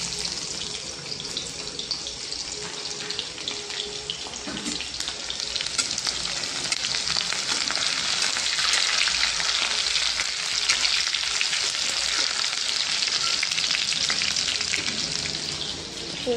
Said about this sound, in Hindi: तब तक प्याज वगैरह मतलब जब तक लाल नहीं होगा तब तक मैं उसको भूनूंगी